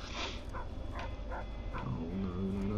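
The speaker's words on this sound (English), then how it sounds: "More barking, come on." A dog-like enemy in the video game Fallout: New Vegas gives a short series of whimpering yips and barks, several quick cries in a row over low game ambience.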